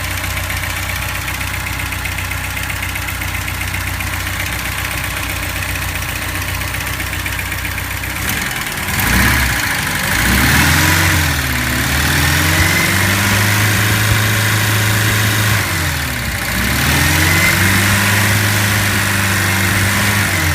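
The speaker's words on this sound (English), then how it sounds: "I'll give it a little bit of gas to show you how it sounds when it's idling up." A 1967 MGB GT engine with original miles idles steadily, then gets two blips of throttle that rise and fall in pitch, loud and close with no talk.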